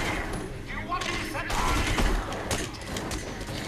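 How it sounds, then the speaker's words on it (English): Enemy gunfire in a Batman video game, a dense, ongoing barrage of shots and thuds that fills the mix with dull impacts and bursts, at steady loudness throughout. "Oh, guns."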